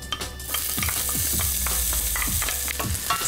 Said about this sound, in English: Fry those off in hot oil.